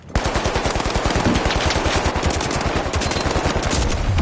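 Rapid automatic gunfire in the video game The Finals, a loud continuous stream of evenly spaced shots without a break.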